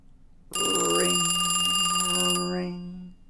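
Old-style telephone bell ringing in a horror visual novel game, a loud electronic ring that starts abruptly, holds steadily for about two seconds, then cuts off with a brief tail.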